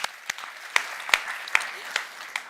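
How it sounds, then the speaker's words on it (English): Sparse, distinct claps ring out at a climate adaptation event in Nairobi, a small audience clapping in a loose, irregular rhythm against a quiet room. "A big applause for him"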